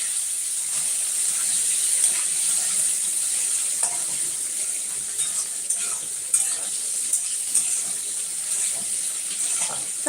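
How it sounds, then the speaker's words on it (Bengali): Onions fry in a pan at home, a moderate, even sizzle continuing for several seconds with occasional scraping stirs and small clatters, no voices. "চলো এবার পেঁয়াজটা ভেজে নেবো"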